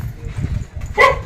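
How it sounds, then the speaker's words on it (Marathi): A single short bark from a dog near the end, loud and close, following a low murmur of background noise in a Konkan village lane. "कुत्रा ओरडतोय ना"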